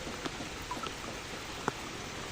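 Steady rain falls outdoors at a work site, a constant dense hiss with a few scattered louder drops and taps standing out.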